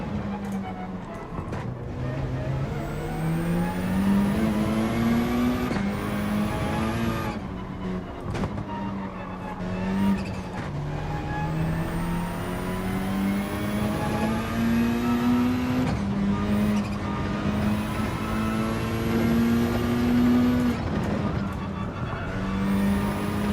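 A race car engine in Gran Turismo 7 drones steadily through laps, its pitch climbing and dropping with gear shifts and brief lifts off the throttle, loud and continuous throughout.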